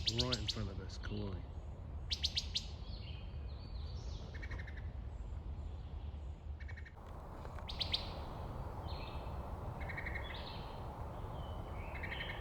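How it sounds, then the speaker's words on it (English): A wood thrush calls from close by in spring woodland in North Carolina, with short bright chirping notes repeated through the stretch over a steady low outdoor hum. "it's a wood thrush right in front of us calling."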